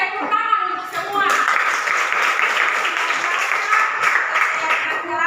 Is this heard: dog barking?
no